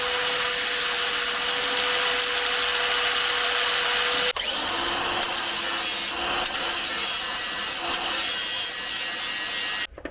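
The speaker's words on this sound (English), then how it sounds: "this is officially why I love and hate the flap disc" On a 1988 Jeep Comanche truck, an angle grinder with a flap disc grinds down metal welds in a loud, continuous abrasive whine up close. The pitch drops partway through as the load changes, and no one speaks.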